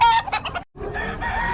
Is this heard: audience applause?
no